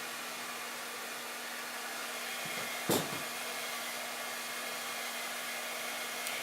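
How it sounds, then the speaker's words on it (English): A hair dryer blows steadily while hair is blow-dried with a brush, a close, even whooshing roar that runs throughout, with a brief bump partway through as the dryer moves. "as you bring that dryer down, you want to bring it down toward your face"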